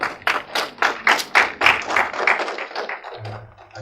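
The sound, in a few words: applause, clapping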